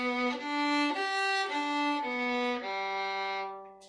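A bowed violin plays a short arpeggio of clear single notes stepping up and back down, sustained and close, with no talking.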